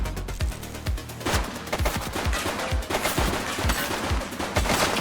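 Rapid bursts of gunfire in The Precinct, a police game, with repeated sharp shots and automatic volleys crackling loudly and steadily throughout, no talking.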